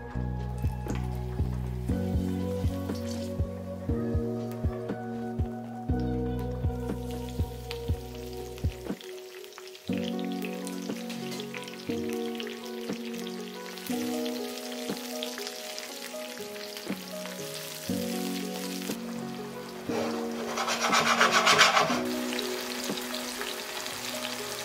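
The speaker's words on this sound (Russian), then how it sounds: "Когда помидорки обжарились до нужного состояния" Tomato halves fry in plenty of olive oil for spaghetti al pomodoro, a steady close sizzle running throughout, swelling louder near the end, over a bed of soft background music with no talking.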